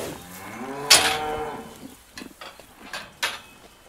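Cows moo loudly in a barn where straw is set in feeding troughs, one long low call followed by fainter clanks and knocks of farm equipment.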